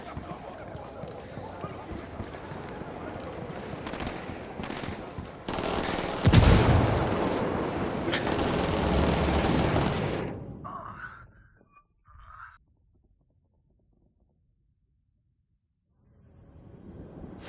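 Rapid gunfire and sharp blasts crackle loudly in the Ghost Recon video game, dense bursts peaking midway, then cutting off to a few faint pops and near silence before noise returns.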